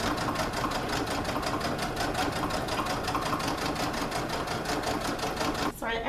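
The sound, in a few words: sewing machine back stitching fabric for tote bag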